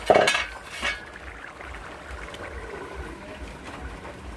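A metal lid is lifted off a pot of chicken bhuna khichuri with two quick clinks close by, the first sharper than the second, followed by quiet kitchen background.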